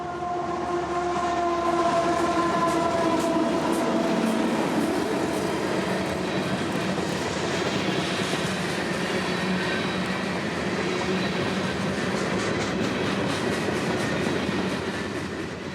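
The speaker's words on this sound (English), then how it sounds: "as 602 rolls through, passing the old Track 2 R2 in the process" CSX freight train 602 rolls through the Flomaton junction on the M&M Subdivision, a loud, continuous rumble of wheels and cars with steady tonal squeals and horn-like tones near the start.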